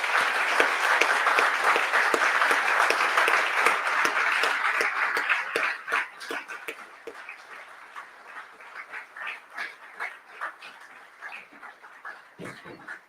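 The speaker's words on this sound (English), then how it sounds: "Please, let's give one more round of applause for all our speakers today." Audience applause for the speakers at a live games talks event in Dundee, a dense burst of clapping that thins into scattered claps and fades out over several seconds.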